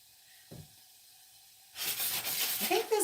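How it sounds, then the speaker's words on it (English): Onions dropped into hot olive oil in a stovetop pan for chicken marsala: a faint knock in near silence, then a sudden, loud, steady sizzle and hiss that continues to the end. "Throw in our onions to saute."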